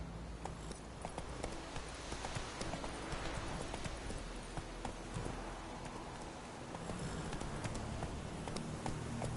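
Geralt's horse Roach trotting in The Witcher 3, hooves clip-clopping in a steady rapid rhythm close by, set against a constant hiss like rain.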